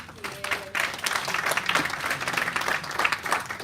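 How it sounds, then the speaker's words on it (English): An audience at a Nigerian film and TV business summit applauds, uneven clapping that swells and dips with a few distinct claps standing out, and a faint voice briefly beneath it. "Please a round of applause once again"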